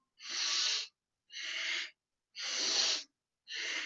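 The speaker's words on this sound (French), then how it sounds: "Vous inspirez, vous expirez par le nez." Strong, forceful breathing in and out through the nose during a Kundalini yoga exercise for pregnancy: four loud, close breaths in an even rhythm, with short silent gaps between them.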